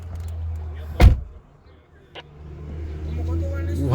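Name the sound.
closing a Porsche car door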